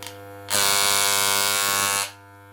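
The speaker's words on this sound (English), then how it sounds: "if you turn the power screw in a clockwise direction until it starts to make a" An Andis hair clipper, its power screw turned in until it runs loud, kicks on with a sudden harsh, steady buzz for about a second and a half, then cuts off, close and alone over a faint background hum.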